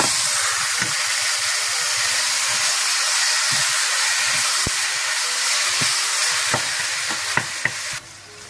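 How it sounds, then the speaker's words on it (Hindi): Minced meat (keema) for samosa filling stirred and fried in a pan, a steady broadband sizzle with repeated scraping clicks of the spoon, close and continuous, no voices. "साथ ही आप कीमा डाल दें। इसको अच्छी तरह से आप मिला लें।"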